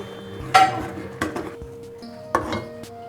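Homemade strawberry jam spooned into a glass jar gives three or four sharp clinks and taps of utensil on glass, close and fairly clear against a low steady background hum.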